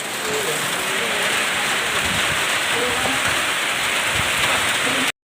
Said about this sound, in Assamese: এয়া চাওক পুৰা বৰষুণ